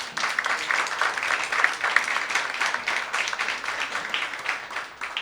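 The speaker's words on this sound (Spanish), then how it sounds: "Recibimos a Fernando con un gran y fuerte aplauso" An audience at a conference on mental health and psychosocial risk factors applauds a speaker, with close, dense, steady clapping that swells and dips slightly without stopping for the whole stretch.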